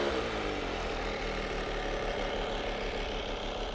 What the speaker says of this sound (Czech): je rozhodně slyšet na volnoběh spíš motor než výfuk